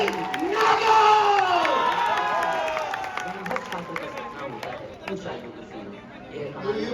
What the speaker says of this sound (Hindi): एक बार जोरदार तालियां होनी चाहिए फॉर अनिल नागर